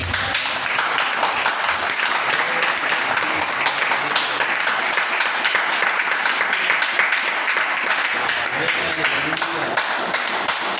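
Church congregation applauds the Lord during a Spanish-language sermon: sustained, loud, dense clapping from many people, with voices shouting and talking over it throughout.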